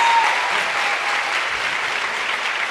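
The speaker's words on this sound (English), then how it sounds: "Applaud this teacher." An audience at El Museo del Barrio claps steadily for a teacher, a dense, even wash of applause with no voices standing out.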